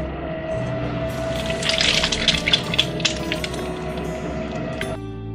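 Water poured onto a spinning pottery wheel, a steady splashing, trickling wash over a constant motor hum that grows busier in the middle and cuts off abruptly near the end.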